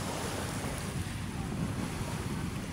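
Sea waves at Manila Bay rush and wash continuously under heavy wind buffeting the microphone, a loud, dense roar with no clear voices.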